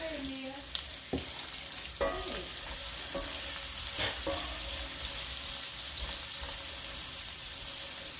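Onions sauté in a pan with a faint, even sizzle, punctuated by occasional clinks and scrapes of a utensil against the pan, heard alone without talk.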